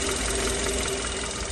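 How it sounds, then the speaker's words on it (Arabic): A 2013 Kia K3 car engine running at idle, a loud, steady, close mechanical drone with a faint ticking knock throughout and no voices. "صوت المحرك زي ما حضراتكم سامعين، مفيش فيه أي ملاحظة"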